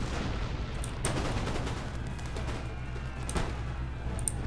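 Artillery fire in the battle game Empire Total War comes as faint, scattered booms and cracks over a low rumbling backdrop, with a few sharper reports spaced unevenly across the stretch.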